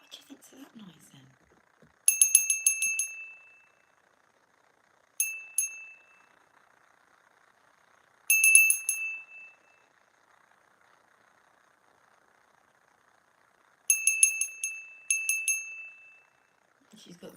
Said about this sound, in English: Shall we ring our bell?